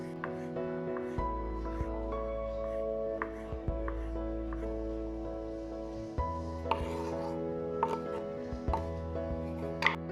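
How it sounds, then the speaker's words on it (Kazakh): Pitted olives being sliced into rings with a knife, soft intermittent taps and cuts on a board beneath steady background music. "Келесі дәнсіз маслины да аламыз. Оны де әдемілеп сақина қылып турап шығамыз."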